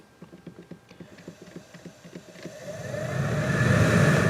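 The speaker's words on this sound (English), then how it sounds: "Turn the blower back on, turn it back up on high." Heater blower motor in a Nissan Pathfinder, first a series of rapid ticking clicks, then the fan spinning up into a steady, rising airy whoosh that grows louder toward the end.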